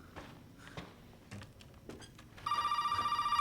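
A telephone in Resident Evil 7 starts ringing partway through with a steady electronic trill, loud and close, after a stretch of quiet clicks and muffled game noise.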